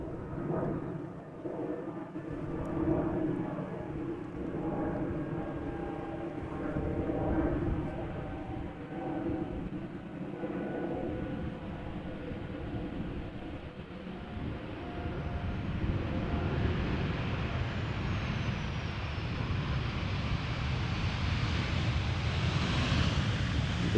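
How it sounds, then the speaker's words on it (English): A KLM Boeing 737-800 from Copenhagen landing at Amsterdam Schiphol, a steady distant jet roar that swells and thickens toward the end as the aircraft draws nearer. "This is a textbook KLM landing."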